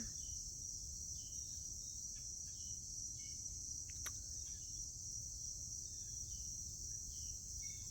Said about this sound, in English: I'm grateful for cicadas. Hopefully you can hear them.